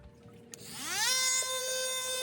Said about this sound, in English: I'm using this Ryobi multi-purpose tool